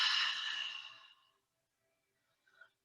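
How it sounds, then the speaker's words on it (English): A deep, breathy exhale during a restorative yoga session, a soft airy rush that fades over about a second, followed by a faint brief breath sound. "Keep expanding the lungs, taking these deep breaths. Especially the exhales."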